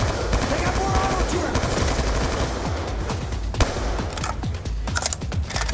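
Auto turrets in Call of Duty: Black Ops II firing continuous rapid automatic bursts close by, heavy and unbroken for several seconds, with sharp impact cracks mixed in and a voice faintly underneath.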